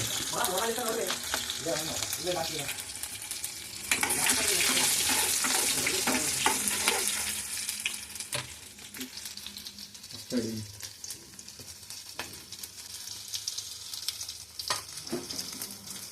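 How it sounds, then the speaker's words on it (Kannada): Chilies crackling and spitting in hot oil in a pan, a loud dense sizzle with sharp pops, briefly stirred; the frying dies down a little after the first half, then sharp crackles keep breaking through. "ಮೆಣಸಿಕಾಯಿ ಹಾಕಬೇಕು ಸ್ವಲ್ಪ ಅದು ಚಟಪಟ ಚಟಪಟ ಉರಿಯೋ ಥರ ನೋಡಬೇಕು"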